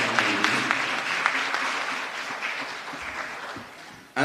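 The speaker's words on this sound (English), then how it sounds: "give them a round of applause" Audience applause at a breast cancer symposium, moderate and even at first, gradually thinning and quieting before a sudden loud sound cuts in at the very end.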